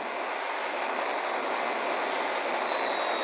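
An airplane engine from the video game GTA drones steadily and loudly, a continuous jet-like roar with a high whine that holds without a break.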